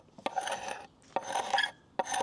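Rough scraping across an oak furniture top, stripping the first layer of finish and wood, in three rasping strokes, each about half a second to a second long, close and fairly loud, with short pauses between them and no talking.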